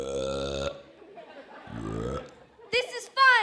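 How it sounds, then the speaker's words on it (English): A child's long, loud burp with a deep, buzzy tone, set in a musical stage production, followed by brief shouted voices. "That's it! Burping is the answer!"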